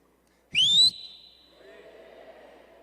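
One sharp, rising whistle rings out loud and close, then fades as a faint murmur of voices continues.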